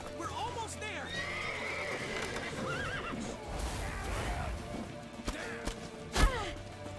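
A horse in The Witcher 3 game gives several rising, wavering whinnies with hoofbeats and thuds underneath, while voices talk over it.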